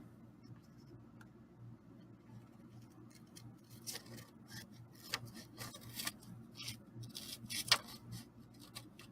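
Scissors trimming lace for a small handmade craft card, a run of soft, close snips and light rustles that grow busier toward the end over a quiet room hum, with no talking.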